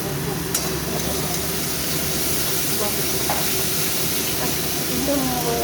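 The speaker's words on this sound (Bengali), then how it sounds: "এটা পেঁয়াজ, আদা রসুন বাটা ভালো করে কষে নেব।" Onion with ginger-garlic paste fries in a pan, a steady loud sizzle and hiss that runs unbroken throughout, with faint occasional stirring scrapes.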